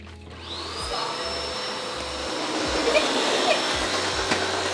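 A vacuum cleaner runs steadily up close with a constant whining hum that rises slightly in strength partway through, with faint thumps as it moves and no clear talk over it.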